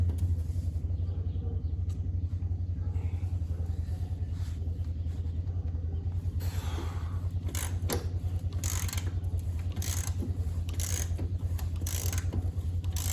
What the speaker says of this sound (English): I'm gonna go ahead and start loosening this bolt here and then that bolt over there